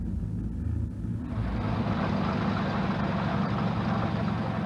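A small material-only cable car, privately built in an Italian mountain village, starts up: a low mechanical rumble rises after a second into a steady, loud motor drone with faint clicks.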